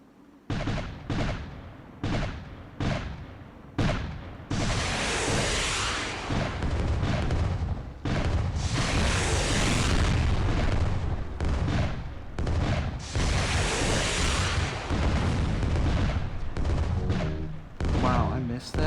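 Missile explosions in the Atlas Warship arcade game, a run of sharp separate booms and then dense, sustained rumbling blasts that fill most of the clip, ending in a few broken bursts.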